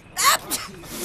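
A single short, sharp sneeze bursts out near the start, followed by faint breathy sounds in a quiet indoor scene.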